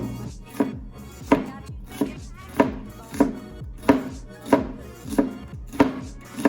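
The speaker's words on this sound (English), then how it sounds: "A quick way to cut an onion really fine is to first slice it lengthwise along its line." A knife slices lengthwise through an onion on a cutting board, giving about ten crisp, evenly spaced chopping strokes at a steady rhythm, close and clear, with no talking.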